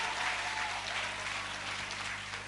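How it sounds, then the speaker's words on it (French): Applause fills a church service, a steady broadband clapping from the congregation that holds at a fairly even level throughout with no clear talk over it. "Acclamez pour l'éternel des armées."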